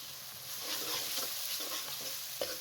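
Garlic, ginger and ground onion fry in hot ghee with a continuous close sizzle, while a spoon stirs with soft scrapes and a sharper clink near the end.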